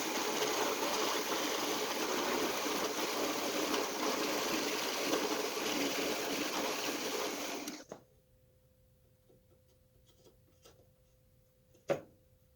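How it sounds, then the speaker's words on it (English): A drill press bores into hardened fiberglass body repair compound, giving a steady whirring grind for about eight seconds that then stops abruptly, followed by near silence with a single faint knock. "I'm going to bore a hole down through that hardened fiberglass body repair compound."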